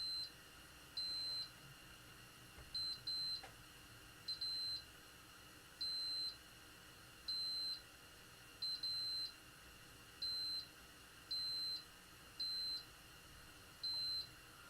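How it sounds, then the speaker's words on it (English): Electronic beeping from a Macintosh Classic II under repair on a workbench, short high-pitched beep bursts repeating at a steady rhythm of roughly one per second, some doubled, over a faint hum. "How's that beeping sound on the stream?"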